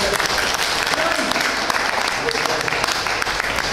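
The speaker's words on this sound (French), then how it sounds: "Vous l'applaudissez très fort." A large audience applauds loudly and continuously at a formal ceremony honoring Issa Diagne, a dense, even wash of clapping with no gaps from start to finish.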